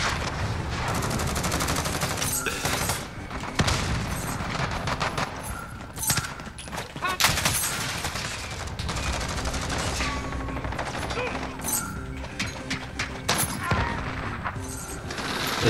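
Dense, loud bursts of automatic rifle fire and single shots crackle almost without pause in a Modern Warfare firefight, with heavy rapid volleys and occasional booms, near and relentless.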